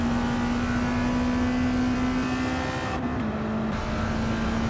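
Car engine in Gran Turismo 7 holds a steady high-pitched drone at near-constant revs, a sustained tonal whine with harmonics that dips briefly before settling, continuous and unaccompanied by speech.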